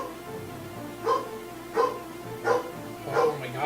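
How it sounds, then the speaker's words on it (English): A dog barks four times in a row at evenly spaced intervals, sharp and fairly close, over a quiet room background. "Oh my god, dog! Stop."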